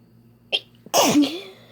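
A woman sneezes once, loud and close: a short sharp intake of breath, then a forceful explosive burst that trails off, with no talking.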